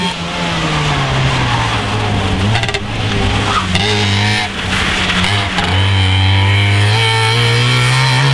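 Powerful rally cars race past at the Havelland Rallye 2015, engines roaring loud and close with rising and falling revs, gear shifts and a steady sustained drone throughout, no talk over it.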